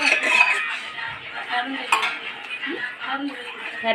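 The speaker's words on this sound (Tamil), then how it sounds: "கொட்டி நல்லா கட்டிப்படாமல் கிண்டிக்கணும்" A spoon scrapes and clinks steadily against a pan as semolina sweet with sugar is stirred to keep it free of lumps, with a faint sizzle and no talk, close and continuous.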